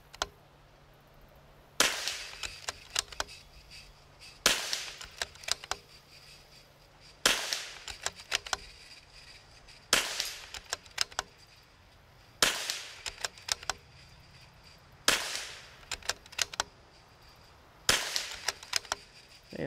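A .22 LR rifle fires at targets outdoors, sharp cracks repeating about every two to three seconds, each with faint metallic pings and rattles after it, with no talking.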